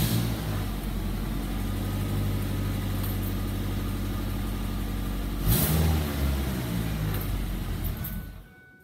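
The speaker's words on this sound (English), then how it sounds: "let's start up the Ford Focus" A Ford Focus engine cranks and fires up, settles into a rough idle, then gets a quick rev of the throttle around the middle before fading out; close and loud, no talking.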